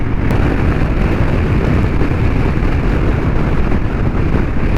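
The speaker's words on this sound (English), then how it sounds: "Like the wind is so violent," Strong, violent wind roaring past a rider on a Harley-Davidson Street Bob motorcycle fitted with a fairing, a loud steady broadband rush of buffeting with no speech throughout.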